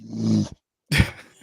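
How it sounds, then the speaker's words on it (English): A dog growls low and rough for about half a second, stops, then gives a louder snorting, growling burst, close and with no talk over it. "that dog, down, boy"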